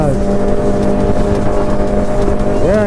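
Ducati superbike exhaust revving at an evening bike meet, a loud, close engine roar with rising and falling revs and a sharp upward sweep near the end, with voices faintly underneath.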